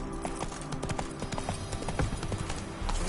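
Roach, Geralt's horse in The Witcher 3, gallops with quick, close hoofbeats in a brisk rolling rhythm over a short stretch.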